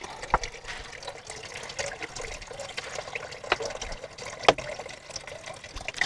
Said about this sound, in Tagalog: Ihalo natin dito sa isang tambang tubig.